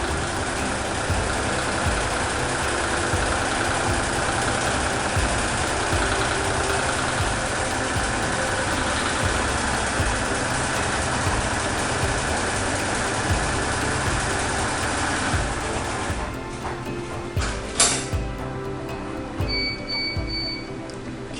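A Toyota 830 embroidery machine runs its stitches with a steady, close mechanical whir and a fine rapid rhythm. It continues unbroken with no voices.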